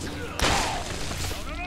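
Spider enemies blow up in the video game Spider-Man: Shattered Dimensions, giving a sudden loud explosive burst about midway that fades into a tonal ringing tail, set against steady game background noise and music.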